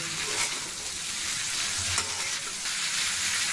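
Bitter gourd with green chilies stir-fries over high heat in a dhaba-style pan, a loud, steady sizzle with a few sharp scrapes of the spatula, close and continuous without talk.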